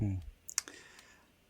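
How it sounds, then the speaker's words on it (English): A few sharp clicks, like keys being tapped, sound faintly after a brief voice, then fade into quiet. "Somebody's typing."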